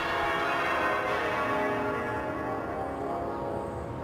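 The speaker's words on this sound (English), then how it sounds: "Alongside it are the 13 smaller bells that regularly peal out across the city." Cathedral church bells ring out in a continuous overlapping peal across the city, steady and resonant, with no voices heard.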